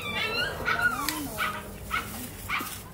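A dog being bathed gives a series of short yips, barks and whimpers at moderate distance, repeated every half second or so over a low background.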